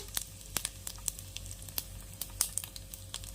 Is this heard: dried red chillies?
yes